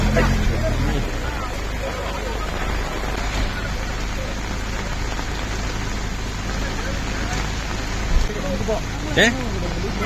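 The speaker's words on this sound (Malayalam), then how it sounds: "മഴ ഇത്തിരി കുറഞ്ഞിട്ട് പോകാം" Steady rain falling during an off-road outing at the Kerala ATC track with Force Gurkha vehicles, a continuous broadband patter throughout with brief louder knocks near the end and some background voices.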